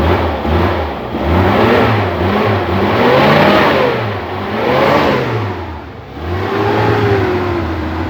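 Suzuki Carry van engine converted to run on LPG, cranking and catching, then revving up and down in repeated surges close by, loud and alone.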